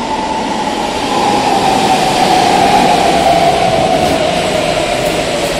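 A subway train on a Brussels metro station platform makes a steady, loud, broad rumble and roar, with a faint tonal hum running through it for several seconds.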